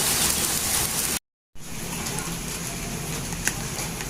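Steady rain falls outside in a dense, hissing downpour, briefly cut off by a short silent gap before resuming just as heavy, with a few louder drops striking nearby.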